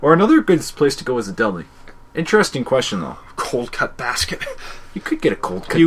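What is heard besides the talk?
None of the usual background noises is heard.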